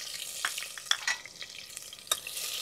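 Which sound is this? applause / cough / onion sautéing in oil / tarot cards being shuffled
onion sautéing in oil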